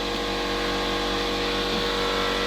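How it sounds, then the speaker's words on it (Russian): Air compressor running steadily to fill the brake system of a ZIL-based truck build, giving a loud, continuous droning hum with a constant pitch and no pauses. "Ну а сейчас попробуем подключить компрессор и проверить тормоза."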